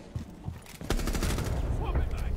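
Rapid gunfire shooting through a wall in Rainbow Six Siege, a dense string of close shots starting abruptly and continuing under a player's voice.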